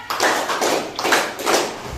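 Four claps from a classroom clapping game come in a steady rhythm, close and moderately loud, each one a little soft and diffuse, as if many hands strike together.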